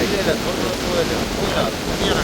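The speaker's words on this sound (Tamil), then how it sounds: "கடல் சரியாக கொந்தளிப்பா இருக்கு. காற்று கூடுதலாக இருக்கு." Rough, churning sea and strong gusting wind on a stormy coast, a steady broadband roar with surf wash and wind buffeting the microphone throughout.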